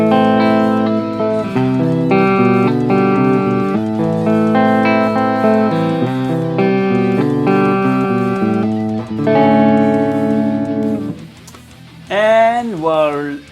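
A Schecter Banshee 6FR electric guitar on its EMG 85 pickup, driven through a Bugera G5 Infinium amp, plays a steady melodic line of sustained notes, loud and close. It ends with a bending, wavering phrase after a brief dip.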